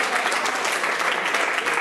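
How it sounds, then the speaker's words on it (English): Crowd applause for dancer Hugo at a popping battle, a dense, even wash of clapping that holds steady from start to finish. "Applause for Hugo."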